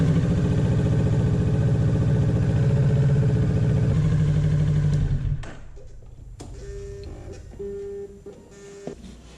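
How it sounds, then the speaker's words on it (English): A 2023 Kawasaki Ninja 650 engine idles steadily and close after an oil change, then cuts off about halfway through, leaving quieter workshop sounds and a few faint tonal beeps. "So step 11 is start the engine"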